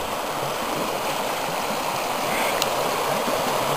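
The Lower Deschutes river flows nearby in a steady, loud, unbroken rush of moving water, filling the whole moment with no voices over it.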